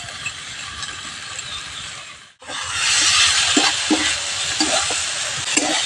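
Spiced taro stolons stirred in hot oil in a pan, a steady sizzle that cuts out briefly and then returns louder, with repeated scraping strokes of the spatula.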